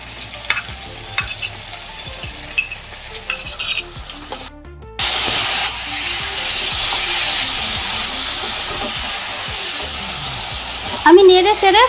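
A pan of taro leaf curry with hilsa fish head is stirred and mixed: scattered scraping clinks of a spatula at first, then steady, loud sizzling and hissing close up.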